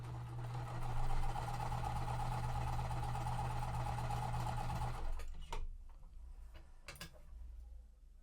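A sewing machine stitches quilt pieces for an under-the-sea puzzle mystery quilt, running in a steady close whir for about five seconds before stopping, followed by a few light handling clicks.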